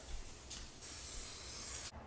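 A spray can hisses in a steady burst while painting a V-flat board, pausing briefly near the start, then spraying continuously before cutting off abruptly.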